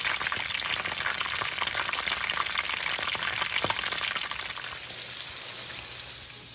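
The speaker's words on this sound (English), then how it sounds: "Now that my grease is kind of ready, I'm going to go ahead and drop them in." Flour-coated chicken bites fry in hot grease with a loud, close, steady crackling sizzle that continues without a break and eases slightly toward the end. No one speaks.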